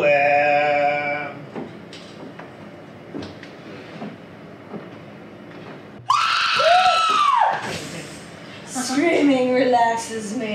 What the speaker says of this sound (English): Screaming relaxes me.